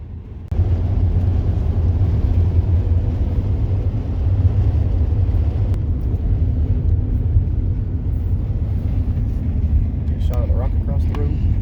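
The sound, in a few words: conversion van driving down the road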